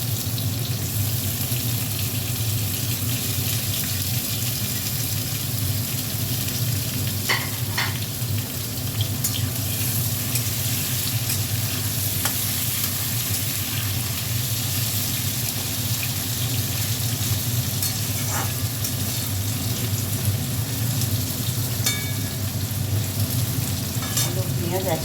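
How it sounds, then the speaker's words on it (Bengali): Potatoes and onions fry together in a pan, a steady broad sizzle running the whole time with occasional faint clicks of stirring, no talk over it. "আলু পেঁয়াজ একসাথে ভেজে নিচ্ছি।"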